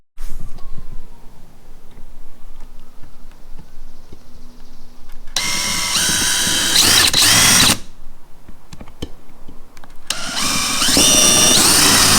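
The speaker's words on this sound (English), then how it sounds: "Let's get the screws into the new bumper to really secure this light in place." A power drill drives screws into a new TRD Pro front bumper on a 4Runner, fitting fog lights, in two loud whining bursts of a couple of seconds each, separated by quieter workshop background.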